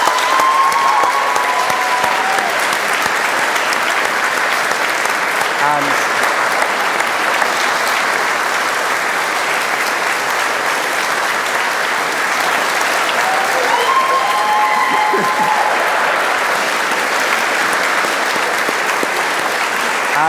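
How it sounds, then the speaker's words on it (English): A packed audience at the Oxford Union breaks into loud, sustained applause, a dense wash of clapping that holds steady for about twenty seconds with faint voices beneath. "I think we should all give you a round of applause so far."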